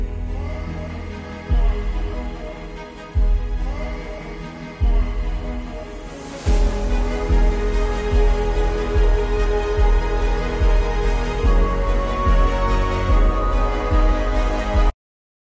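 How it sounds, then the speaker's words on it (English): Electronic music builds with a steady pulsing beat, then bass-heavy kicks hit harder and fuller as the track surges into a loud, dense climax. "All songs have something which you call a drop or climax."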